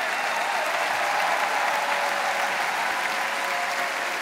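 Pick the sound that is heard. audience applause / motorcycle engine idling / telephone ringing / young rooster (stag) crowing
audience applause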